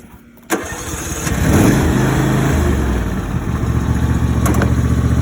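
A 2021 John Deere riding mower engine cranks with a click, catches after about half a second, revs up, then settles into a steady, close idle.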